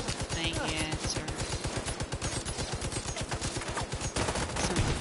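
Rapid automatic gunfire from The Division video game sounds as a dense, steady, rhythmic stream of shots, loud and close, running through the whole clip.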